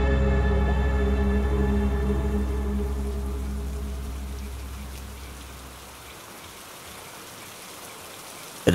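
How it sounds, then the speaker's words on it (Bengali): Steady rain falling on a deep night in a village, a continuous even hiss that holds level for several seconds and then gradually thins and softens toward the end, with no voices. "বৃষ্টির শব্দটা যেন একটু একটু করে এক টানা সুরে রূপ নিচ্ছে।"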